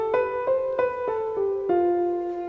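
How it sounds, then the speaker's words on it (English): A Lydian scale with its raised fourth, played as a series of clear sustained tonal notes stepping one after another, about six evenly spaced note onsets each ringing into the next, heard alone at a steady moderate level. "But Lydian has this raised fourth."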